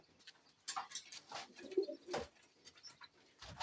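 Pigeons coo in their coop in short, soft, throaty bursts, with a few brief chirps and rustles nearby and no talking.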